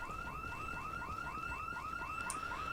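A building alarm in the zombie survival game Project Zomboid wails steadily, set off by walking through an open door, with a rapid repeating rising whoop and a constant high tone, loud and alone.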